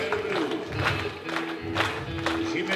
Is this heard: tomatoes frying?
no